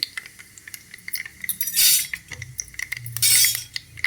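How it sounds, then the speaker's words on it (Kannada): Mustard seeds and cumin dropped into hot oil for tempering a vermicelli pulao, giving bright scattered crackles and sizzling bursts with light clinks of utensils, close and without talk. "ಎಣ್ಣೆ ಒಗ್ಗರಣೆಗೆ ಇಟ್ಬಿಟ್ಟು ನಾನು ಸಾಸಿವೆ ಹಾಕಿದ್ದೀನಿ ಮತ್ತು ಜೀರಿಗೆ ಹಾಕ್ತಾಯಿದ್ದೀನಿ"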